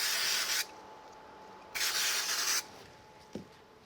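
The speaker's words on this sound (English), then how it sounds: "I'll use a little bit of spray glue on the back" Two bursts of spray glue from an aerosol can, a hissing spray for under a second and then a longer one, followed by a soft knock.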